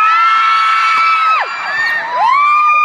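A large crowd at a True Visions event screaming and cheering loudly, sustained high-pitched shrieks rising and falling over a dense roar.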